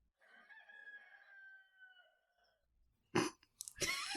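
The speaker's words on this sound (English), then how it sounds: "am I hearing a rooster?" A rooster crows, a long drawn-out call with a steady held tone lasting over two seconds, followed by louder, harsher bursts of clucking and commotion near the end.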